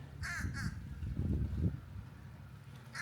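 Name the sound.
birds calling outdoors near a lake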